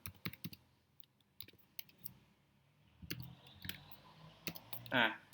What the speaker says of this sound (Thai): ให้เราพิมพ์ชื่อนะครับ ภาพที่เราต้องการค้นนะครับ